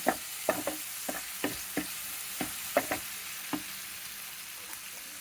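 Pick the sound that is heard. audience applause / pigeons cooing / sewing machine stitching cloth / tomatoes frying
tomatoes frying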